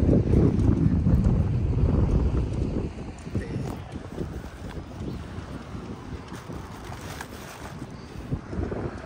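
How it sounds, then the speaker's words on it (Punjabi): Strong wind blowing outdoors, a loud rushing roar buffeting the microphone at first, then easing into steadier gusty noise, with no clear voices over it. "ਹਵਾ ਕਿੰਨੀ ਸੋਹਣੀ ਚੱਲ ਰਹੀ ਹੈ"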